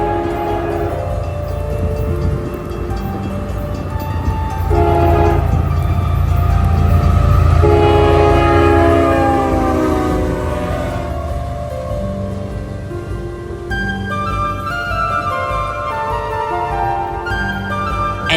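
Freight train with several locomotives, including a KCS unit, rolling past up close, a loud rumble and grinding wheel noise swelling in the middle, with horn-like tonal notes over the steady roar.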